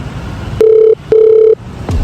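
Telephone call signal on a handset: two long steady ringback tones separated by a short gap, each about half a second, loud and close, with a third tone just beginning at the end.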